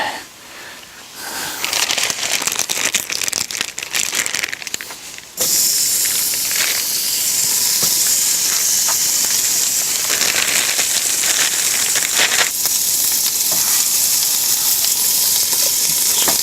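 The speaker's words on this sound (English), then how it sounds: "Get those steaks on, get them nicely seared." Steaks sear on a hot grill: a quieter opening gives way to a loud, dense, continuous sizzle that surges and then holds steady to the end.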